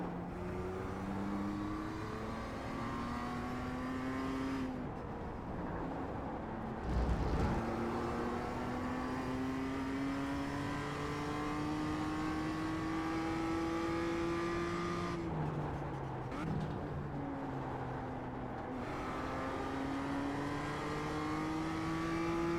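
Simulated BMW production race car engine at Laguna Seca in iRacing, revving loud and close with rising harmonic sweeps through repeated gear changes, a few sharp lifts and a brief thump midway, no voices.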